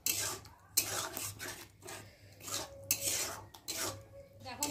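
A spoon scrapes and stirs lote fish curry as it thickens in a metal cooking pan, making repeated rhythmic scraping and clinking strokes at close range with no talking.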